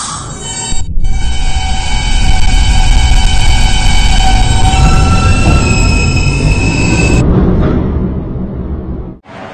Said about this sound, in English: This is a Herald Square bound D train.